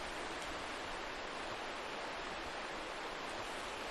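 Clear river water spilling over a little waterfall makes a steady, even broadband rush that stays constant and fairly faint throughout, with no voices.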